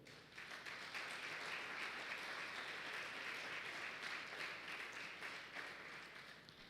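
A church congregation breaks into applause during a worship service, a faint, steady wash of clapping that swells and holds for several seconds before easing off.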